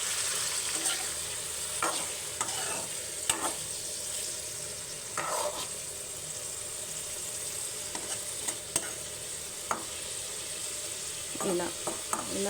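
Paneer pieces being stirred through hot oil in a pan, a steady low sizzle under intermittent scraping strokes of a spoon, close and fairly quiet.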